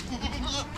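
Goats being fed indoors on a rainy day give a short, close, nasal bleat over a dense background of shuffling and murmuring.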